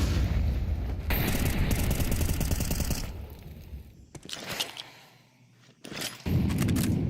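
Grenades burst during a Counter-Strike 2 match, loud blasts and a dense rattle of gunfire through the first three seconds, then quieter scattered pops and a sharp final crack near the end.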